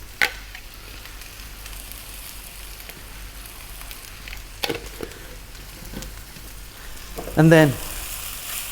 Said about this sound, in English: we're going to toss this around for about another 3 to 4 minutes